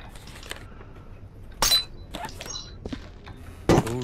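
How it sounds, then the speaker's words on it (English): Glass shards break and clink in the video game Viscera Cleanup Detail, with two short, sharp crashes standing out over faint background clutter and small knocks. "lot of these glass shards look familiar."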